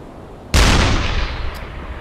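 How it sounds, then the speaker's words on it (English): A U-boat deck gun fires a single shot at a ship during a convoy attack in the UBOAT video game: a loud, sharp blast followed by a long rumbling decay, with no talking. "Let's go ahead and man that deck gun, please."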